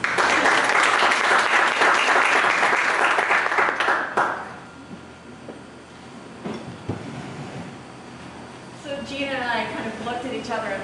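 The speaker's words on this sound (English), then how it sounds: "So let's give them a round of applause." Dense audience applause at a breakfast club meeting, loud and steady for about four seconds before fading out, followed by a quieter stretch and then a voice speaking.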